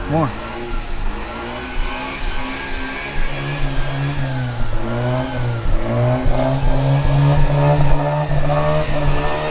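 A Mazda RX8 rotary engine idles roughly then revs up in repeated throttle blips, the pitch climbing and falling over several seconds, loud and close, with people talking around it.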